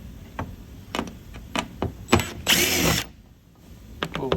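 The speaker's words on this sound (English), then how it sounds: "And these bolts we will have to take out, or screws." A power driver fitted with a T25 bit backing screws out of the tailgate of a Ford F-150, several short whirring bursts with clicks and a longer mechanical burst, close by, separated by pauses.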